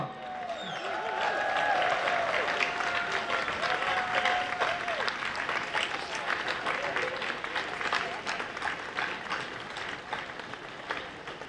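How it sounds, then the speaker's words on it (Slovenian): Outdoor crowd at a March for Life rally in Ljubljana breaks into loud, sustained applause with cheering voices rising at first, clapping continuing steadily throughout. "Hvala Željki Markič, pa dajmo še en bučen aplavz za njo, dajmo!"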